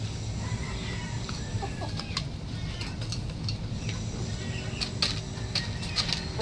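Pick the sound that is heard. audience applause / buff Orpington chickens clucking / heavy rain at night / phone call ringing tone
buff Orpington chickens clucking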